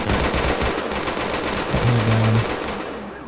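Rapid automatic gunfire in the video game GTA IV with the LCPDFR police mod, loud, close bursts of shots continuing for several seconds and then thinning out toward the end.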